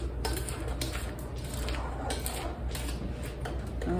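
A spoon or mixer works through a big batch of vanilla cookie dough in a bowl, giving soft steady scraping and thick squishing sounds with light clinks, close and continuous, with no talking.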